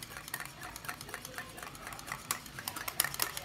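Yogurt (dahi) for idli chaat is stirred briskly in a bowl, with soft, rapid scraping and tapping strokes in an uneven rhythm and a few sharper clinks, heard close and alone.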